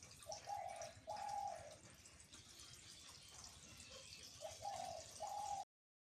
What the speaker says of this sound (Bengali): ঘুঘু ডাকতেছে এই সময়